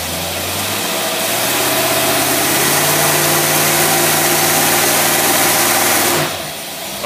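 A Ford 9627 tractor engine put in gear and loaded, a loud, steady mid-pitched drone that holds for several seconds before easing off near the end.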